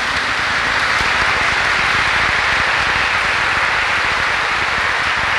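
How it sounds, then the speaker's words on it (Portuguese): A congregation in a cathedral during Sunday Mass applauds continuously, producing a dense, even wash of clapping that holds steady at a loud level without letting up. "Vamos aplaudir a palavra do Senhor."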